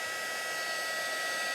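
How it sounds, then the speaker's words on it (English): A heat gun blows hot air onto embossing powder, giving a steady, even whooshing roar with no pauses from start to end. "keep the heat gun pointing away from your own hand, because it is extremely hot"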